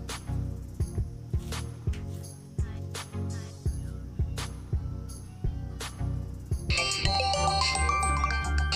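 A bright electronic mobile phone ringtone melody starts partway through, playing loud over a rhythmic music beat.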